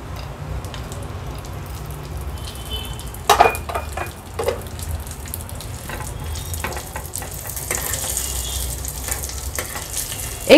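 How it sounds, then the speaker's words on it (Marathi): Cashews, almonds and raisins fry in hot ghee with a steady close sizzle, broken by a few sharp clinks of stirring around the middle and at the very end, with no voices. "हे ड्रायफ्रुट्स आहेत ना, पिस्ता सोडून काजू, बदाम आणि मनुके आपण तुपावर थोडेसे परतून घ्यायचे आहेत"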